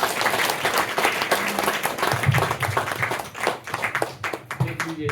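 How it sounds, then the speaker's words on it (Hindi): An audience claps together in a warm, dense round of applause at a gathering, sustained throughout with a few voices talking over it. "तालियां बजाइए इनके लिए"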